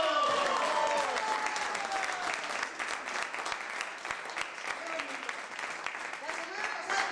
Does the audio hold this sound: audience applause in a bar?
yes